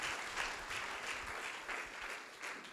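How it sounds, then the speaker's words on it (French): A church congregation applauds after a sermon reading, a soft, sustained wash of many hands clapping at a distance, rising and falling slightly in waves. "acclamez pour la parole de Dieu."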